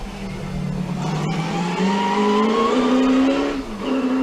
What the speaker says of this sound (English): Love the noise out of the transaxle rear end of this car.